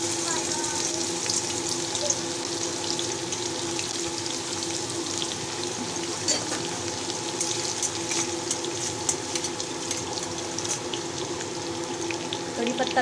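Garlic frying in hot oil in a pan, giving a steady, continuous sizzle and crackle at close range with no clear breaks.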